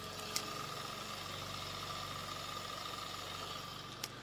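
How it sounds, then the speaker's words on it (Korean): Engine of a Hyundai Genesis Coupe export model idling steadily with the hood closed, a low even hum and faint vibration heard from nearby, with two brief clicks. "이 정도의 엔진 소음 만나보실 수가 있는 차량입니다"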